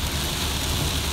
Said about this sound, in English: Days of rain